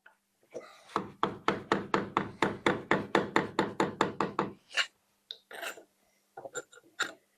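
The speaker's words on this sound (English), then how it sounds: "I'm going to use the hammer just to gently get this out" A hammer taps rapidly and steadily on a wall tile, about fifteen light knocks in quick succession, followed by a few scattered taps and scraping sounds as the tile is worked loose.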